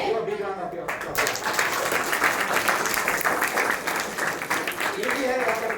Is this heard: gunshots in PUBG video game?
no